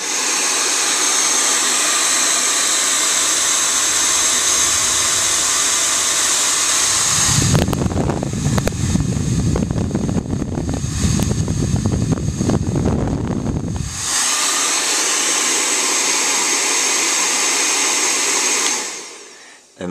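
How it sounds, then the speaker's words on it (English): A Le Angelique Titan UV 2000 Watt professional hair dryer runs with a loud, steady airy roar. Midway it shifts to a lower, rougher rumble for several seconds, then returns to the smooth high blast before cutting off. "As I turn the hair dryer on, you will see the blue light become."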